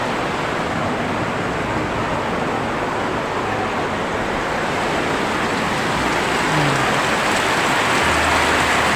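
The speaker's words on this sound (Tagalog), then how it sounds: "Sobrang lakas ng ulan." Heavy rain pours down in rural Samar, Philippines, in a dense, steady hiss that stays loud and even throughout, with no voices.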